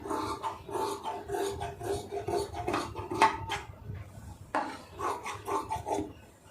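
Scissors cutting saree lining fabric for a blouse sleeve, a steady run of soft, close rasping snips with short pauses between strokes.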